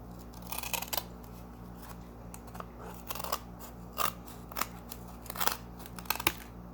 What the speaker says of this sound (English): And here is the other part of the spine that we're going to be cutting off.